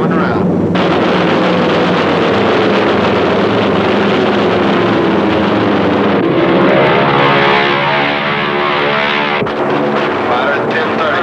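WWII aircraft engines drone loudly and continuously overhead, with a descending engine pitch as planes come around in combat and sharp bursts toward the end; a dense, roaring mix with shouted voices in it.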